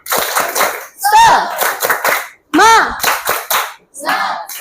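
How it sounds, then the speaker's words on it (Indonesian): Students in a classroom perform a rhythmic group clap chant, loud bursts of clapping interleaved with children's chanting voices, several short bouts close to the listener. "Sekali lagi kita tepuk semangat dulu ya. Tepuk semangat."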